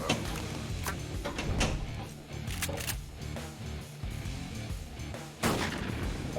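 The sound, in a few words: shotgun fail sound effect, Pinball FX video game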